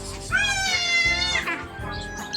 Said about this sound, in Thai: มีน้องแมวด้วยนะคะเดี๋ยวไปดูแมวค่ะ